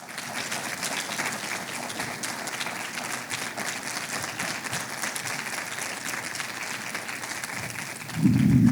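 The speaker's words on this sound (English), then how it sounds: "Give yourselves a round of applause." An audience at an awards banquet applauds steadily with dense, moderately loud clapping throughout, filling the room, with a louder low rumble rising right at the end.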